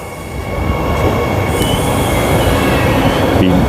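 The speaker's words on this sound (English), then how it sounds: "So there's the train." A suburban rail train at Whitfords Station in Perth rolls through loudly and steadily, a close rumble with wheel squeal and rail noise throughout, no voices.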